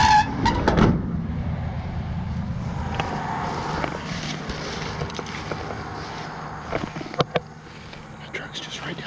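A car goes by on a rural road, rising loud and close in the first second before its broadband rumble trails off into a steady background hum, with occasional clicks and a person speaking quietly.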